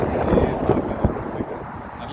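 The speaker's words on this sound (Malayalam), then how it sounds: "നല്ല കാറ്റുണ്ട് കേട്ടോ, എൻ്റെ മുടിയൊക്കെ എടുത്ത് കിടക്കുന്നുണ്ട്." Strong desert wind buffets the open air along a road through the desert, a steady low roar with gusty swells and rumbles, loud and close, with no voices.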